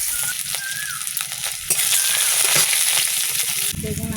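Chopped onions hit hot oil in a wok and sizzle loudly and steadily, with scraping stirs and a sharper burst of frying near the end.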